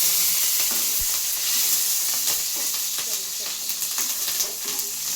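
Chilies and curry leaves fry in hot oil with a loud, steady sizzle and a bright, hissing crackle that fills the whole stretch, with small spits and pops scattered through it.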